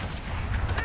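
Gunfire in Call of Duty: Modern Warfare Warzone, sharp shots and cracks layered over a continuous rumble of battle, loud and close throughout a brief moment of combat.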